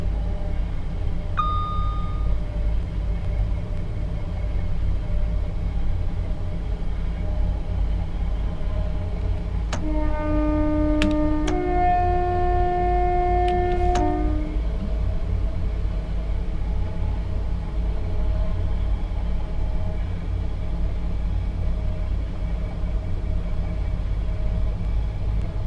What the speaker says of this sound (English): sounds bugging out a little bit there as the other train goes past